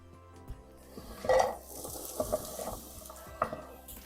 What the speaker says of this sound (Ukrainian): Тепер цибулю потрібно підсмажити.